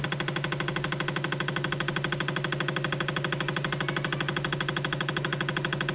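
An AUTOOL fuel injector tester runs a variable speed test, firing injectors in a steady rapid clicking pulse that continues evenly throughout, close and moderately loud with no talking.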